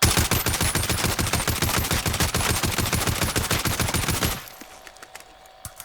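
An ODEN rifle in Call of Duty Warzone fires a long sustained burst of loud, evenly spaced heavy shots at a steady fast rhythm, then stops abruptly, leaving only a faint ringing tail.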